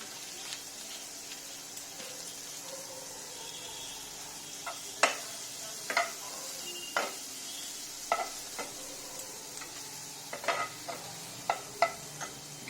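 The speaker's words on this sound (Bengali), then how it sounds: "যতক্ষণ না মিষ্টি গন্ধটা বেরোচ্ছে ততক্ষণ আমরা একটু ভাজতে থাকবো আমার আরেকটু মাখন লাগবে" Mushrooms fry in butter in a pan with a steady soft sizzle, while a spoon stirs and scrapes against the pan in frequent light clicks and taps.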